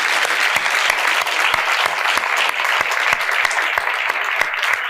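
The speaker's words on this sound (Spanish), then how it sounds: "gracias por el aplauso" An audience at a flat earth conference in Buenos Aires applauding, a dense crackle of many hands clapping steadily and loudly throughout, with a few sharper individual claps standing out.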